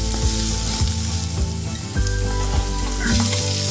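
Liver curry masala with green chillies and garlic fries in a pan, a steady close sizzle with recurring low stirring thumps throughout.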